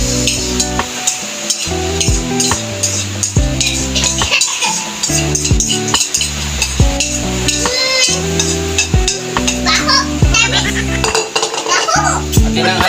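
A utensil stirs food frying in a pan, giving a near, busy run of metallic clinks and scrapes over a soft sizzle, partly masked by steady background music.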